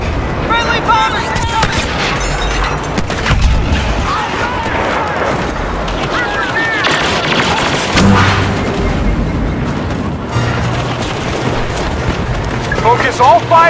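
Y-wing bombers making a bombing run in the Star Wars Battlefront video game, heavy booming explosions and rumbling blasts stacked over continuous battle noise and gunfire, loud and dense, with voices calling out over the chaos.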